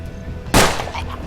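A single sharp gunshot in the western tactics game Hard West, one loud close crack partway through with a short decaying tail over a faint background.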